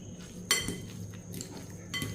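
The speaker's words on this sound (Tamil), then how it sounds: "இதையும் நல்லா மிக்ஸ் பண்ணிக்கிடுவோம்." Salad with mint and coriander being mixed in a bowl gives a few sharp clinks and scrapes of utensils against the dish, spaced irregularly over soft background noise.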